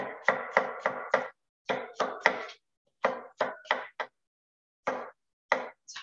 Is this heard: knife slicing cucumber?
yes